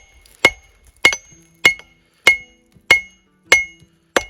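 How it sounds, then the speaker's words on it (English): Hammer blows on a hot forge-welded axe billet for a medieval-style Viking axe: seven sharp, ringing metallic strikes at a steady, even rhythm, close and loud with short decays between. "it'll probably start splitting apart when I hammer it on this way"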